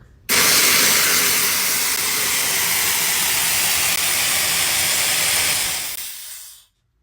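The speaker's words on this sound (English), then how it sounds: "We're gonna run the nitrous for 5 seconds to see how many pounds it uses." Nitrous oxide bottle on a C7 Z06 Corvette discharging through the solenoid and nozzle: a loud, steady, close hiss with a sudden start, held for about six seconds at even strength, then tapering off and cutting out.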